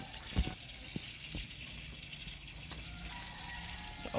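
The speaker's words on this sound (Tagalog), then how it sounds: "Pinabayan ng itong tubig dito oh." Water running steadily from a tap, with a constant trickling splash and occasional faint knocks and drips, no voices.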